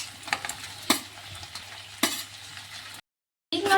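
Fried cauliflower pieces for gobi manchurian are tossed into a hot seasoning in a pan, giving a soft steady sizzle broken by a few sharp scraping stirs and a short silent gap.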